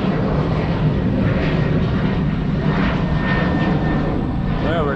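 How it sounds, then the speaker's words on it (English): A fixed-wing airplane passes overhead near an airport, a loud, steady engine roar filling the whole stretch with a faint rising whine toward the end, while someone talks over it. "Sorry about the plane, we're right near the airport."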